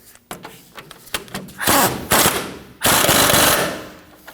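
An upper ball joint nut on a 2009-2014 Ford F-150 is run down in loud, rapid impact-tool bursts: short rattling hits first, then two long hammering runs, close up with no talking.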